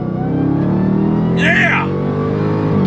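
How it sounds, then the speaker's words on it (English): A 2022 Dodge Challenger Super Stock launching hard off the line, its steady loud engine drone rising with an upshift sweep midway, while someone talks over it. "when you hit this thing off the line, it really gets up and goes"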